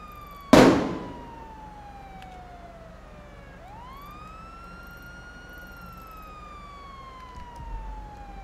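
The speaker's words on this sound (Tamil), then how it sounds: "இந்த ஒரு நிமிஷம் இருக்கு, சைரன் ஒன்று ஆஃப் பண்ணிடுறேன்." A police siren in a Tamil-language video game role play: a sharp loud burst at the start, then a single clear wailing tone that dips, climbs and slowly falls again, with no one talking.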